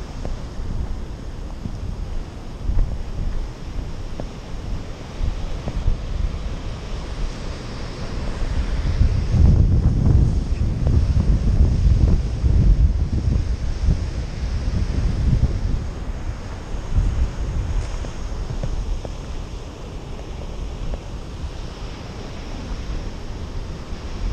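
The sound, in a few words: wind noise on a GoPro microphone at Guincho Beach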